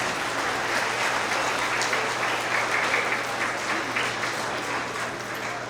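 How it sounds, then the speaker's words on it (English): Dense, steady applause fills a school award assembly for kindergarten through second grade as teachers and staff are honored, with many hands clapping at an even level throughout and no voices standing out. "please give them a big round of applause for their contributions"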